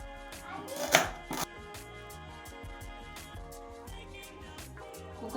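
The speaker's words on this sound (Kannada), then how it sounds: "ಮೆಣಸಿನ್ಕಾಯಿ ಆಮೇಲೆ 2 ಈರುಳ್ಳಿನ ನಾ ಫಸ್ಟಿಗೆ ಕಟ್ ಮಾಡಿ ಹಾಕ್ತೀನಿ" Onions and green chillies are chopped on a board in a makeshift army-quarters cooking setup, a quick series of sharp knife taps with one louder clatter near the start, then softer irregular cuts, near and clear.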